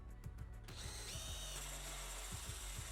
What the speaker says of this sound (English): here I'm using a diamond drill bit to cut a hole around my copper pipe